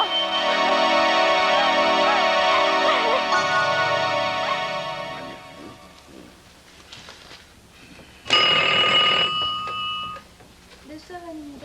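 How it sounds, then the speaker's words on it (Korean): An old telephone rings with bright, metallic trilling in a 1980s Korean TV crime drama: a long ring, a pause filled with voices, then a second short ring. "전화 좀 받아주세요"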